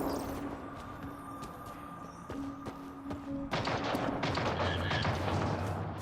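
Enemy gunfire during a firefight in the video game Mass Effect Andromeda, a steady rattle of shots that swells into a louder, denser burst of fire partway through, with no talk over it.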